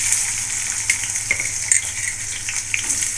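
Cumin and onion frying in hot oil for a Telangana egg fry, a continuous sizzle with scattered small pops and crackles, close and fairly loud, no voices.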